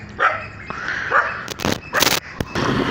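A dog barks and yips in quick, uneven bursts during a dawn outing in Kolkata, loud and close, with short whiny sounds between the barks.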